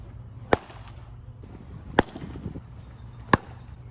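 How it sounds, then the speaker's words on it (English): Baseball pitches smacking into a catcher's glove: three sharp, loud pops spaced roughly a second and a half apart, each a crisp isolated crack with no talking. "just enjoy these glove pops"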